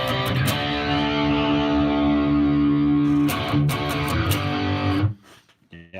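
Distorted electric guitar chords from a Headrush rig ring out through a Quilter amp with the IR bypassed, with sustained tones and a few sharp strums before cutting off near the end.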